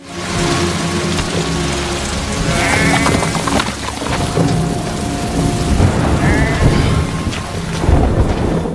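Heavy rain pours steadily with a deep, rumbling thunder-like roar, and faint tonal music and a few bleat-like calls sit underneath.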